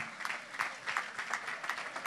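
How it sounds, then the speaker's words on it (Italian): Audience applause for maestro Silvano Silvagni at an orchestra memorial concert, a full, steady patter of many hands with gently pulsing intensity, at moderate distance. "vorrei, da parte vostra, un grande applauso per il grande maestro"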